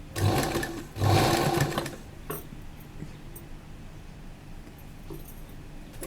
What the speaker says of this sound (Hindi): पहले नीचे वाली सिलाई लगाएंगे, उसके बाद ऊपर वाली सिलाई लगाएंगे।